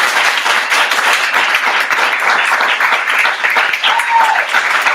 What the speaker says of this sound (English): Let's give Dr. Junior Williams, MJ, a big round of applause.